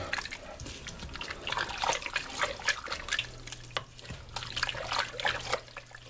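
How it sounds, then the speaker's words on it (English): Texas-style chili being stirred in a pot, giving soft wet sloshing and scraping with scattered clicks and drips, steady and close, with no talking. "Let's get this all stirred around."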